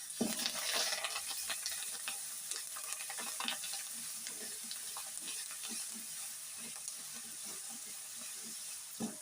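Tamarind paste frying in oil with curry leaves, a continuous soft sizzle and hiss with scattered crackles and the occasional stir, close but fairly quiet.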